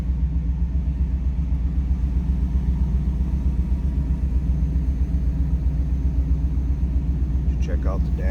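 A 1995 Chevrolet Camaro Z28 convertible's engine runs at idle with a steady, close, low rumble throughout and a brief brighter sound at the very end.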